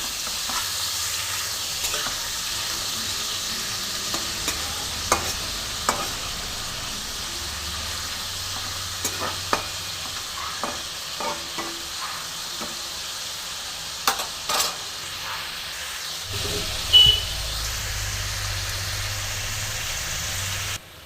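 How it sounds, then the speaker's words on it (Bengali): Shrimp coated in salt and turmeric fry in a pan with a steady crackling sizzle and occasional stirring clatter, accompanied by a low background hum throughout. "আমি লবণ হলুদ মাখিয়ে রেখেছিলাম চিংড়ি মাছটা আমি দিয়ে দিলাম। দেখো, একটু ভেজে নেবো মাছটা আমি।"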